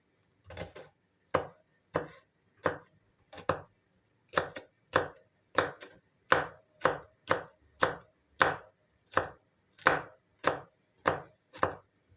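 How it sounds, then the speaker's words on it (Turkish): Regular knife chops finely dicing peppers on a cutting board, about twenty sharp close strikes in steady clusters with brief pauses between them, no talking. "biberleri biraz daha soğana göre ince doğramaya çalışıyorum"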